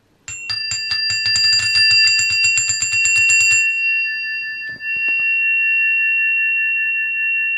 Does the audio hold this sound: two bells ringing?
yes